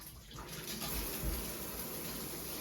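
Water from a newly fitted shower arm runs in a steady, broadband hiss and spray, continuous and fairly close, with no talk over it.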